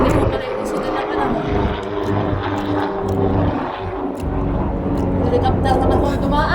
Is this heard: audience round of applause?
no